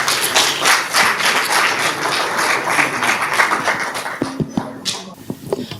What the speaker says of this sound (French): Sous l'applaudissement bien sûr.